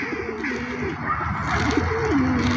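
Pigeons coo in a steady low warble as they are fed outdoors, with the soft rolling calls repeating close by over continuous background ambience and no talk.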